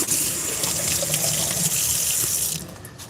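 A tap runs steadily while hands are washed at a sink, a close hissing gush of water that stops abruptly near the end.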